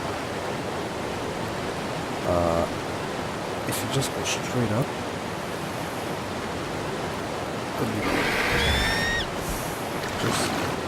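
Steady rushing wash of water in Ark Survival Mobile, a continuous broadband hiss throughout, with someone talking over it and a few brief game tones and chirps popping up.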